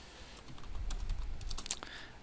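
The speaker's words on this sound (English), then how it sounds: "I would have to be typing this quite a lot." Rapid typing on a computer keyboard while coding a Phaser game, with a close, steady patter of key clicks in quick irregular bursts and no talking.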